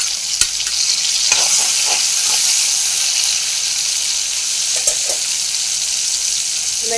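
Garlic frying with onion and tomato for a kulambu, a steady close sizzle in the pan punctuated by a few scraping stirs and clinks of the spoon, without talk.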